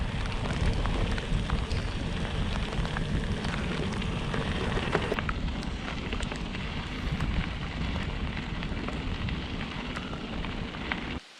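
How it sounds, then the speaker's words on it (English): Heavy rain pouring steadily among thick trees along the European Divide Trail, a dense close hiss of drops on leaves and ground, constant and loud throughout with no voices. "Looks like the rain is intensifying"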